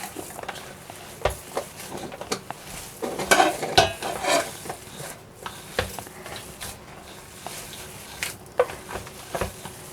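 Vegetable kabab mixture being mixed in a bowl, with soft scraping, intermittent clicks and taps of a spoon against the vessel over a low background hiss, no talking.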